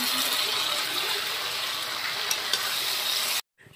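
Masala sizzles and fries in a pan for a fish curry, a steady, close hiss with faint stirring scrapes, ending abruptly in silence.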